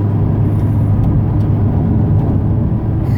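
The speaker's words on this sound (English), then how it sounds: "I am just driving at 35 miles per hour" Steady, even road and engine drone fills the cabin of a 2017 Mazda MX-5 Miata RF Club Edition cruising at 35 mph, a constant low rumble with faint ticks and no talk.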